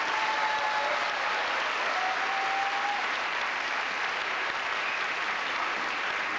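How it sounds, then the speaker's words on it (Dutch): Sustained applause from a studio audience at a 1993 Flemish television show, a steady dense wash of clapping that holds evenly from start to finish with no speech over it. "een geweldig applaus"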